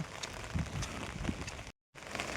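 Heavy monsoon rain falls in Konkan during flooding, a dense, even hiss of downpour heard at moderate distance, broken by a brief moment of silence near the end.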